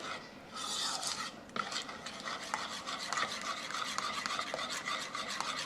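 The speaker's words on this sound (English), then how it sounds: "I'm just going to stir it up really good so it's all mixed in." A spoon scrapes and stirs steadily through a thick honey mustard sauce for chicken in a pan, a continuous close rasping and rubbing with faint sizzling beneath, with no voices.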